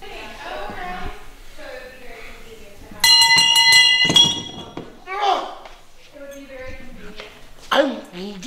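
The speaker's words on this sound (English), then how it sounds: "It's a bell. I'm supposed to ring it. Yeah, it's a decorative bell." A small decorative bell at a house during an open house chimes once with a bright metallic clink and ringing tone, set between stretches of close conversational speech.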